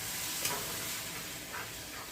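Tomato puree masala fries in oil and is stirred, giving a steady dense sizzle with faint soft scrapes of the spoon, heard close and alone without speech.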